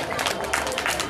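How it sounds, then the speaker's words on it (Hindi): Audience applause at a prize-giving during a Ram Lila event, a dense, continuous clapping crowd with a noisy mix of voices under it. "नमन शर्मा के लिए जोरदार तालियां हो जाए।"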